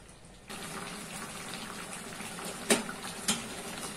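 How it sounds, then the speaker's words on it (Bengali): Hot water pours into a pot of chicken curry with potatoes, flavored with mustard and curry leaves, making a steady close gush with two brief clinks partway through. "এর মধ্যে আমি অল্প পরিমাণ গরম জল যোগ করছি, তবে ঠান্ডা জল দেওয়া যাবে না"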